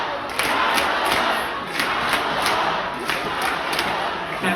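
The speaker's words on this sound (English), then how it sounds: "the whole crowd like froze or and then started like chanting her name" A large crowd at a Kamala Harris event in DC chants in unison, with loud rhythmic bursts repeating about every half second and a dense roar of voices underneath throughout.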